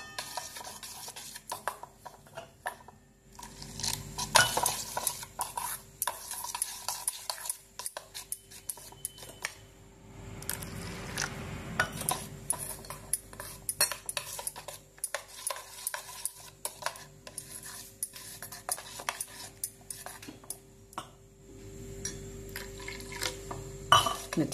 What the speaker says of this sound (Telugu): సోపు తురిమినాము కదా, ఆ పౌడరు దీంట్లో వాటర్ కలుపుదాము